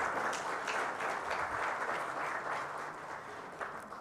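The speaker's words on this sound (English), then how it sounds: "Please give a round of applause to all our speakers." A conference audience at the CII Partnership Summit 2023 gives its speakers a round of applause, with steady, moderately distant clapping from many hands that holds evenly for several seconds before easing slightly.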